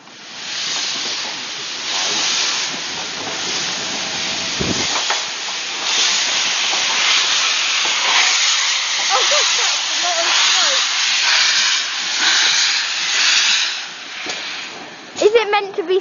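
A steam locomotive on the West Somerset Railway releases a loud, continuous hiss of steam close by, with people talking over it.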